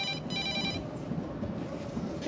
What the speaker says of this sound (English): Just let it ring